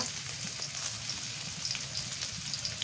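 Soft, steady sizzle and crackle of onions and chillies frying in oil, moderately quiet and continuous, with no one speaking.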